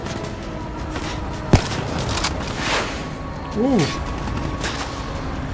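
Gunfire in Call of Duty Black Ops 3 on realistic mode: a sharp shot rings out, then scattered bursts and whooshing effects fill a steady game soundscape, while a player makes a brief exclamation.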